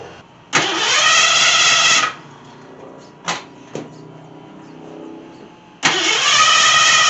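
A Ford Granada with a 351W V8 and Holley carburetor, troubled by vapor lock, cranks with a whirring starter, then catches and runs roughly. It stumbles and sputters at idle and is cranked again near the end, loud and close.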